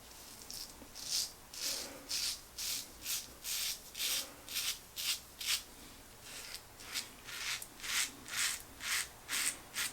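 A safety razor scrapes against the grain across the upper face, rhythmic raspy strokes repeating about twice a second, close and crisp in a quiet room.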